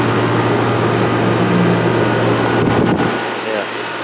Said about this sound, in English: Several heat pumps at this office building.